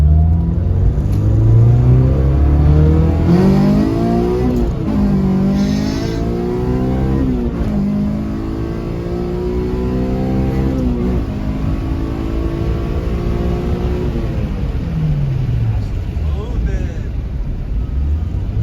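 A Honda Civic with a K24 engine swap revs hard and climbs through the gears several times, tires chirping, pitch rising and dropping with each shift, loud and close.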